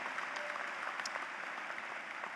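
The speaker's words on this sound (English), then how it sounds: "Let's have a round of applause for the great job they have done at BU." Dense, even applause fills a commencement ceremony hall for Harpur College, a steady sustained clatter of many hands with no voices rising above it.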